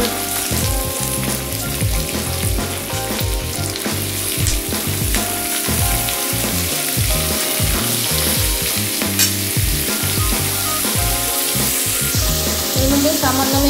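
Tomato, pointed gourd, pumpkin and potato frying together with onion in a pan, a steady loud sizzle throughout with intermittent scraping and stirring clatter from a utensil.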